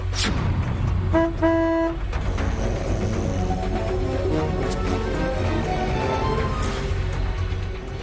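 Two quick car horn honks early on, over continuous traffic rumble in a busy street.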